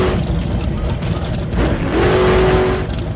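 A Porsche 996 RSR race car roars past with a loud, steady engine drone, a brief rising tone and a sustained whine mid-pass, close and unaccompanied by voices.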